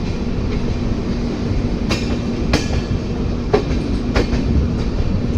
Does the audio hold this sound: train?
yes